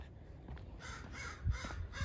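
Crows caw outdoors in snowy weather, a few harsh calls in quick succession, fairly faint and at a moderate distance.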